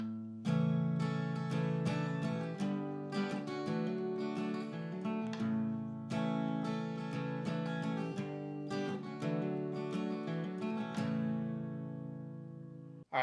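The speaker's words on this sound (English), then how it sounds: "We'll get started with the intro. Sounds like this." A capoed guitar plays the intro of a song, plucked and slid notes over ringing chords in a steady rhythmic pattern, played alone at moderate volume with no talking.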